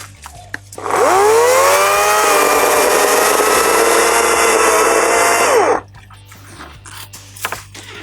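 An EGO battery-powered 16-inch chainsaw revs up and cuts steadily through wood for about five seconds at close range, loud and alone, then winds down and stops.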